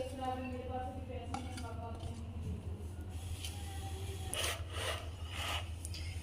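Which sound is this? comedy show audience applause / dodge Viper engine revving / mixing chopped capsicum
mixing chopped capsicum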